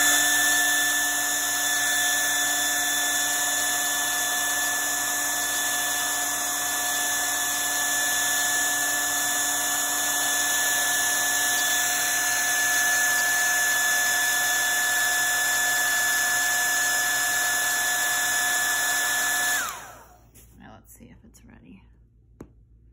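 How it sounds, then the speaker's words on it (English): A hair dryer blows steadily at close range on wall stickers with a high whine for about twenty seconds, then switches off, leaving faint quiet handling noises. "You just use a blow dryer for a couple seconds on there and it will melt the glue"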